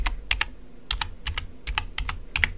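Computer keyboard typing a short file name: a quick burst of close, crisp key clicks in an uneven rhythm, with no voices.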